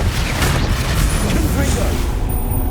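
A Bombarda blasting spell erupts in Hogwarts Legacy, a loud booming explosion with crackling debris and rumbling low end in a busy game soundscape, while a voice talks over it.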